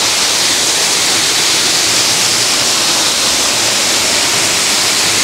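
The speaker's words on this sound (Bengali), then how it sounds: "আমি একদম ঝর্ণা তলা দিয়ে যাব।" Waterfall at Cherrapunji in Meghalaya roaring as a dense, steady, loud rush of falling water from close by, unbroken for the whole stretch with no other sounds.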